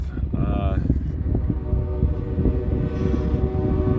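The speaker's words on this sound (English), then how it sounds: "There's another westbound running past this one, empty coal drag." An empty westbound coal drag freight train rumbles past at close range near Ashland, Fremont and Omaha, with steady loud wheel and car noise throughout and a brief horn-like tone early on.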